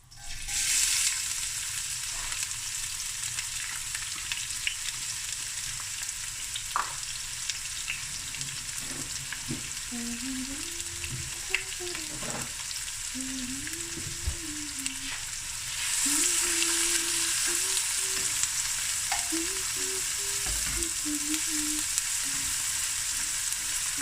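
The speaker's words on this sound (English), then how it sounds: "So we're just going to let this fry for another, closer," Chopped small onions fry steadily in a pan for beef mince akhni, a continuous close hiss and sizzle running throughout, with occasional stirring scrapes and light clinks, growing slightly louder partway through.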